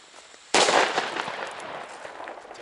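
Di Blasio Elio Cobra 6R silver firecrackers go off at New Year's Eve: after a quiet moment, one loud sharp blast erupts, followed by a dense, crackling spray of smaller pops that keeps going to the end.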